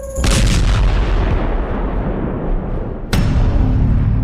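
A loud, deep blast rumbles and lingers, followed about three seconds later by a second sharp boom.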